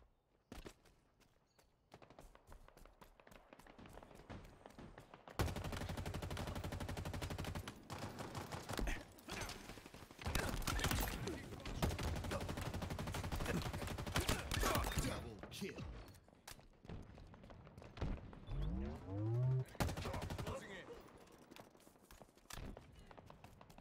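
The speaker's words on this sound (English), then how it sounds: "I choose to use I like this assault rifle" Assault rifle gunfire in the video game Halo Infinite comes in long loud sustained bursts separated by quieter stretches, with a voice talking at times.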